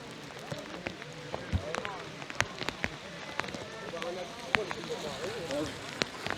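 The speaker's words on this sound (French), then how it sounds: "il y a la pluie qui redouble" Heavy rain pours at an outdoor cyclo-cross race, a dense steady patter with sharp individual drop hits, as though striking an umbrella, heard close.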